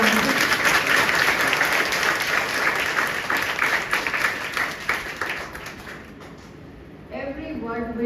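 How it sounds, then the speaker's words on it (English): Parents give a big round of applause after a Class 3 school presentation, loud dense clapping from a room full of people that tapers off, followed by a voice speaking briefly at the close. "I want parents, let's give them a big round of applause."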